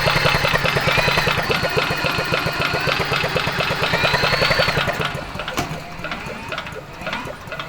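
An abandoned 5HP Briggs and Stratton generator engine is cranked over, a fast, even train of loud mechanical chugging pulses that slows and fades out after about five seconds, followed by faint clatter.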